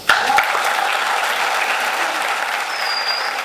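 A conference audience at an addictions congress applauds Claudio Greco, a burst of dense, steady clapping that starts sharply and carries evenly for a few seconds.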